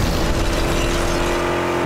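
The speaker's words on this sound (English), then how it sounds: "I presume that was the sound of the crash." Vehicle crash in a video game, heard as a loud, steady engine roar with a sustained tonal hum running throughout, fairly close and continuous with no talk over it.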